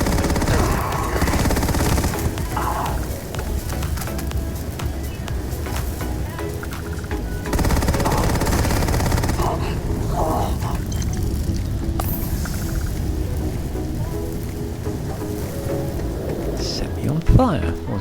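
The Acid Rain weapon fires in the game Starfield. Dense, loud bursts of rapid shots run in overlapping volleys throughout, with a crackling, hissing texture.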